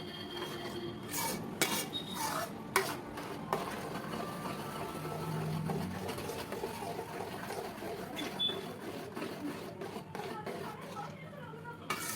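Tirunelveli halwa gets stirred in a pan, a spoon scraping and clinking against metal in uneven strokes. Faint background talk and kitchen clatter run beneath it.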